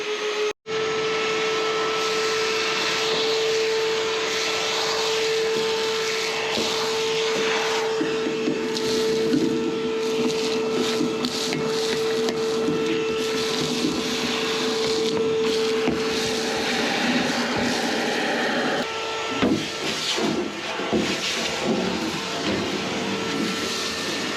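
A steady, loud motor drone with a strong whine runs nonstop, like a powerful vacuum with two motors running close by, cleaning an old Braud machine, with no talking.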